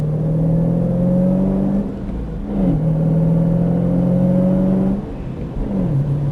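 A Ford Mustang Shelby GT500 accelerates through the gears, its engine rising in pitch in loud, close rumbling pulls, dipping briefly at each shift before climbing again.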